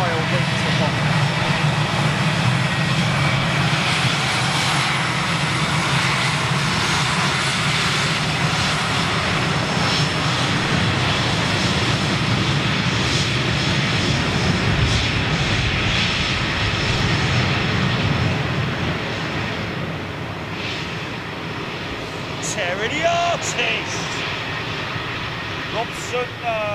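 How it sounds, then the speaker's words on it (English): Cathay Pacific airliner taking off at London Gatwick, a loud sustained engine roar that slowly fades as the jet climbs away, with people talking over it. "Beautiful takeoff for that Cathay Pacific"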